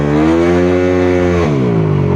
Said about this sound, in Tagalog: Ang ingay ng motor na to.